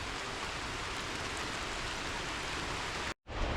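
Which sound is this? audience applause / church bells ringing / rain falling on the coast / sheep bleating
rain falling on the coast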